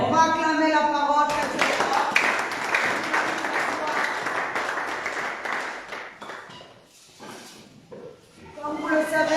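A church congregation applauds together, a dense burst of clapping that swells, holds for several seconds, then thins out, with voices heard before and after.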